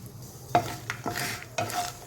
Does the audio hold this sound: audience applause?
no